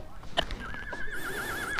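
A horse at a riding area gives a wavering neigh close by, preceded by a couple of hoof knocks and soft background noise.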